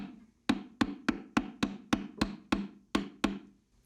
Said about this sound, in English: we'll just grab a little block of wood or a hammer to nudge it along